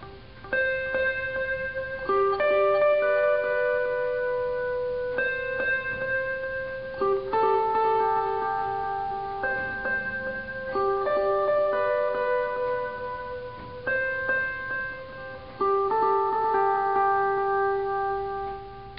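Clean electric guitar notes ring out in sparse, overlapping phrases, each tone trailing into soft delayed repeats; steady and moderately loud with no voices.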